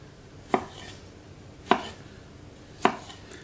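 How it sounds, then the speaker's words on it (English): A knife chops through cherry tomatoes on a board in three sharp, evenly spaced strokes, each a crisp close thunk against a quiet background. "Chop them into 4 or 5 pieces."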